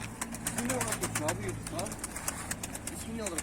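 Mardin pigeons coo steadily inside a coop, with soft repeated calls and some clicking and rustling close by, while people talk over them.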